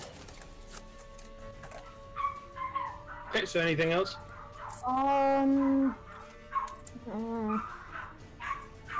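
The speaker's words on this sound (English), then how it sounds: "hear dogs." Dogs whimper, yip and bark in a few short, loud, pitched bursts between quieter stretches, and a person talks briefly at the end.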